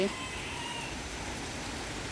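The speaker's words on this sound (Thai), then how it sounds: "วันนี้ฝนตก" Steady rain falls on a rabbit farm in Chanthaburi, a soft, even patter holding throughout at moderate distance with no break.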